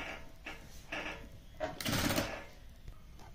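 A sewing machine stitching lehenga fabric, running in short bursts with pauses between, a longer louder run near the middle, fairly quiet and close.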